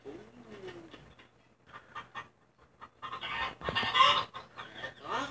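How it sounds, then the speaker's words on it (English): Chickens clucking and murmuring in short bursts, scattered at first and then growing busier and louder near the end. "Oh, chickens."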